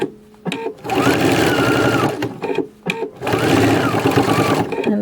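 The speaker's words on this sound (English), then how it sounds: "you do have to stitch the piping down on the entire quilt before you go to put on your binding" A sewing machine stitches piping down onto a quilt in two loud, steady bursts, each running about two seconds with brief pauses between them.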